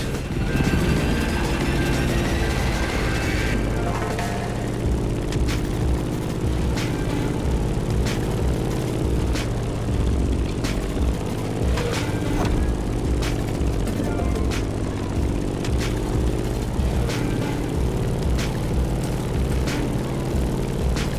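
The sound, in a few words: Grumman F8F Bearcat propeller plane flying, video game The Crew Motorfest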